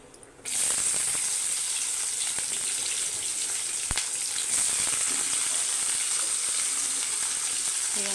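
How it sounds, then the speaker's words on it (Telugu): Onions hit hot oil for a ridge gourd curry with a sudden onset of loud sizzling that then holds as a dense, steady hiss close by. "నూనెలోనే మగ్గిపోతాయి బీరకాయలు ఇప్పుడు ఉల్లిపాయలు వేసుకున్నాం"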